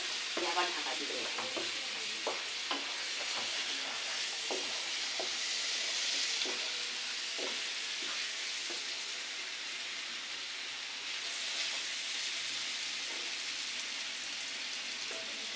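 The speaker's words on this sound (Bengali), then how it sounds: "এবার মাংসটা দিয়ে দিচ্ছে, দিয়ে অনেকক্ষণ ধরে কষানো হবে।" Meat with spices being sautéed in a pan, a broad hissing sizzle under a series of rhythmic spoon scrapes that thin out after the first few seconds, close and steady with no speech.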